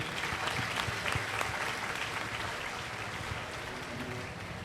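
Steady, dense applause from a large crowd, sustained throughout without letting up.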